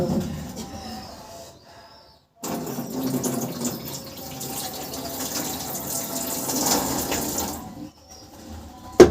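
Cold tap water runs steadily from a faucet for several seconds, a broad rushing stream that starts abruptly and stops near the end, with quieter household sounds before and after.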